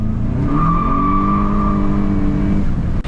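A turbocharged, tuned car accelerates hard, its engine note rising steadily in pitch over about three seconds, loud and close, with no talking.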